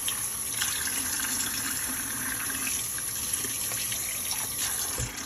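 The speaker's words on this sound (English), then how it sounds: "And then the fine netting. Just rinse it out." Running water rinses the fine mesh filter netting of a Fisher & Paykel dishwasher, a steady close gush like a tap flowing over and through the screen, continuous for several seconds with no talking.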